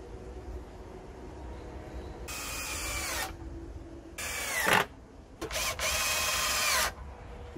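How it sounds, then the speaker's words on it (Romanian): A power drill bores holes in pallet wood while a bench is being built, with three separate loud whirring bursts of about one second each, separated by quieter pauses with background hum. "O să-i dau două găuri mari, pentru a băga hoșurubule mari, două hoșuruburi mari"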